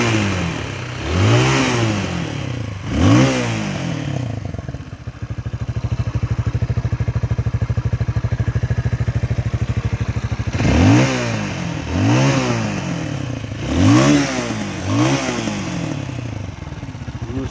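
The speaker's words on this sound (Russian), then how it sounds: "Так, теперь по звуку мотора." A Motoland ST250 dirt bike engine revs repeatedly in bursts, rising and falling in pitch, with a steady idling rumble between them, loud and close.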